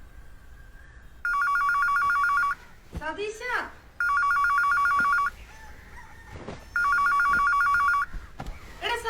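A telephone rings in repeated bursts, each a shrill electronic trill lasting over a second with short gaps between, while people talk in the pauses.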